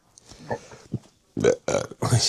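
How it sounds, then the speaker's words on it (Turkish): One person burps several times in a quick row, loud and close, with short guttural belches near the end. A bit of soft talk comes first. "Geğirdim ya."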